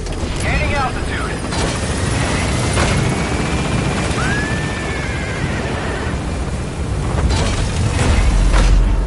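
Helicopter in Metal Gear Solid V, the Pequod climbing from a landing zone, a steady broadband rotor and engine roar holding throughout, with a rising whine and some game effects layered in, loud and close.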